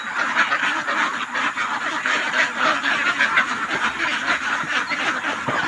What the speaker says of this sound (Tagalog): Yan na po yung mga alagang itik natin.